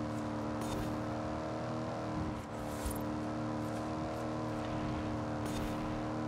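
Steady, loud engine drone from a Ford Crown Victoria police car pulling under acceleration, a brief dip midway before the tone carries on evenly to the end, with no voices.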